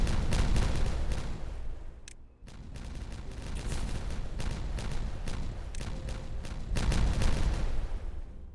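Detonations in Timberborn crackle in rapid, dense bursts like volleys of gunfire, loud rolling clusters that briefly drop out near the middle, then resume and swell again toward the end, with no voices.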